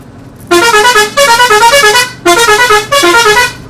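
A loud musical vehicle horn honks repeatedly on a winding hill road from Thodupuzha, its melodic tune playing in two long bursts separated by a brief pause.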